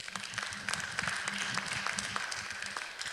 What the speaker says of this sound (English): Y'all deserve a round of applause.